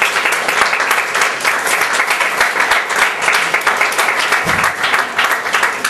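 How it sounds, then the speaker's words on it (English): Loud, dense audience applause fills the room at an organizational talk, a steady roar of many hands clapping with no gaps, close and sustained throughout. "please give him a huge round of applause"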